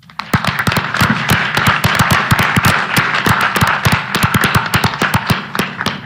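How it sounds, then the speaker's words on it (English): Audience applause at a House committee field hearing for the Luke Air Force Base Color Guard: a sparse crowd of sharp, distinct claps, near and loud, steady for several seconds with no talking. "Let's give them a round of applause."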